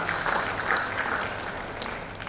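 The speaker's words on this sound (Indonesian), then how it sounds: "Tepuk tangan" Applause from the audience at a Demokrat party cadre training session in Indonesia, a steady wash of clapping lasting a couple of seconds at moderate level with no talk over it.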